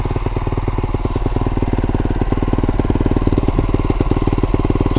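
A Honda CRF450R dirt bike engine idles outdoors while warming up, a loud, steady, close thumping beat that holds even throughout with no talk over it.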